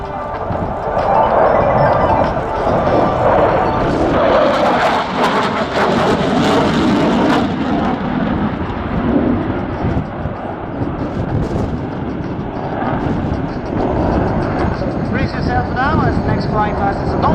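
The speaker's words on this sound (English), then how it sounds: "Here comes a roll under the turn, in which we can appreciate the high roll rate of the Tornado" A Panavia Tornado jet rolls through a turn and flies past at an air show, a loud sustained engine roar that swells and fades under continuous commentary.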